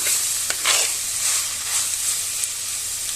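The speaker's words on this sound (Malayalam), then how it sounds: "നന്നായിട്ടൊന്ന് മിക്സ് ചെയ്ത് കൊടുക്കാം" Prawns sizzle and hiss in a hot pan while a utensil stirs and scrapes through them in short strokes, with no voices.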